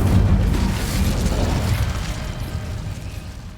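In Hogwarts Legacy on PS5, the Incendio fire spell bursts out as a loud, continuous roaring whoosh with heavy low rumble that fades slightly over a few seconds.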